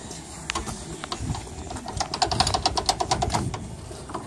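A wrench clicks in quick repeated ratcheting strokes, tightening the nut on the upper control arm of a 1999 Ford Expedition, the clicks steady and close, growing slightly louder toward the end.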